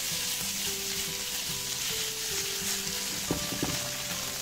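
Crab meat sizzles in melted butter in a hot pan, a steady bright frying hiss with a few brief tonal scrapes and clicks near the end, no voices.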